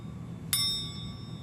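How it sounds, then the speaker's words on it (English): A metal spoon hanging from a string, heard through the string held to the ear, is tapped once and gives a bright, faint metallic ring that fades slowly over a quiet background. "the sound of the spoon being struck travels through the string and to the ear"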